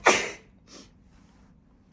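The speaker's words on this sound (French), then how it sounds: "je vais éternuer dans pas très longtemps" A single sharp human sneeze bursts out close and loud, followed by a fainter breathy exhale and a brief click near the end, with no talking.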